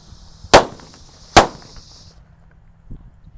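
Two loud, sharp bangs from paper-wrapped firecrackers go off close by, less than a second apart, each ringing briefly before a faint third pop.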